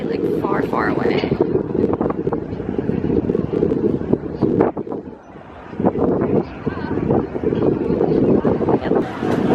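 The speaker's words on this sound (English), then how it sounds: "It's so windy." Strong wind buffets a rocking boat on open water with a distant skyline, a steady roar of gusts and hull noise running throughout, briefly easing midway, while people talk over it.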